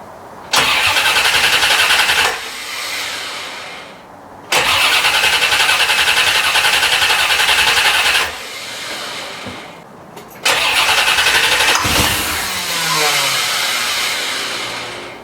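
A C4 Corvette engine, freshly fuelled with premium gas, cranks loudly and close in three long attempts separated by pauses, the last one running on and fading slowly.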